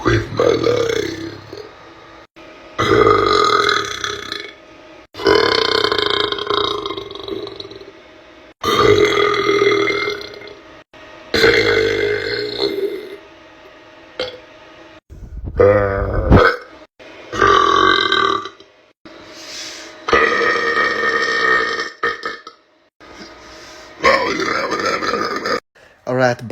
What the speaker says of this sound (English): Usually, I can burp on command, like these.